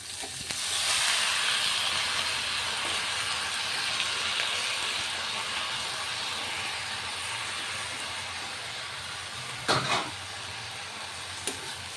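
Rice that was washed and soaked for about an hour fries in a pan with a loud, continuous sizzling hiss that holds steady throughout, with a couple of brief scraping clicks near the end and no talking.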